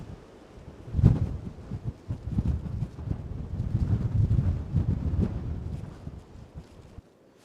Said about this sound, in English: Well, it's still windy.